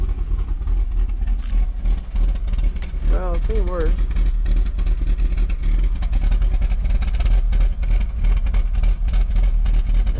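A Toyota Supra engine, abandoned for 12 years, runs steadily at idle on its first start, a continuous low rumble throughout with a person talking briefly over it.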